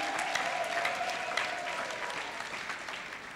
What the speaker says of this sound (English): Can we clap louder and more beautifully, people of God?